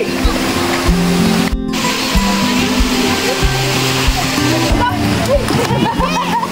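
Water splashing and rushing down slides at Hindag-an Falls, a continuous loud churn of splashing and flowing water with people talking over it throughout.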